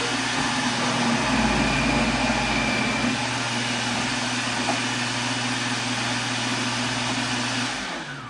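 An electric COOKLEE 600-watt food processor shreds carrots with a loud, steady motor whir and a rough grinding buzz that holds for about eight seconds before winding down at the end.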